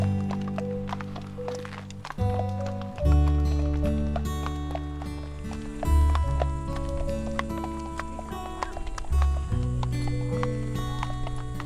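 Horses walk in the Black Forest with their owners, hooves clip-clopping in an uneven rhythm of soft thuds, partly mixed under loud background music.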